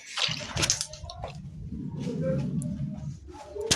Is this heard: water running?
yes